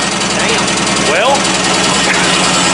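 A race car engine, recently sorted so it no longer backfires or sputters, idling with a steady, close, throbbing drone, while people talk over it.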